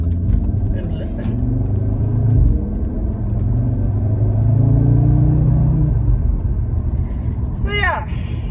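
A 2022 Audi RS3 sedan on the move gives a deep, steady low engine rumble throughout, with a brief higher whistle or squeal near the end.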